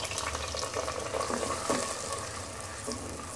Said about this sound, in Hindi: इसमें अब मैं प्याज जो है वो फ्राई होने के लिए डाल रही हूँ।